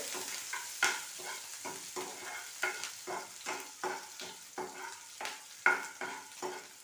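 Onion, green chili, ginger and curry leaves sauté in hot oil, a steady sizzle broken by repeated rhythmic scrapes of a spoon stirring in the pan, close and alone without talking.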